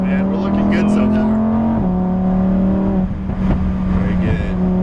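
Lamborghini Huracan Performante (2018) lapping a race track, its engine droning at a steady pitch that drops as it shifts down a gear, heard from inside the car beneath a voice.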